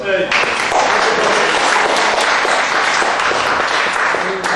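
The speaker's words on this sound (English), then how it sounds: "A round of applause, please." A crowd at an atheist society launch party breaks into loud, sustained applause, dense clapping that swells after a brief start and carries on evenly, with a few voices mixed in.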